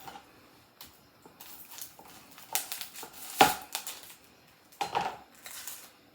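A knife cuts through an onion on a board in a few separate crunching chops and scrapes, close but fairly quiet, with gaps between strokes and no talk.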